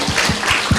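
Students in a school hall at SMKN 1 Sumenep clapping together in a brief burst, with dense hand claps filling the room at moderate loudness.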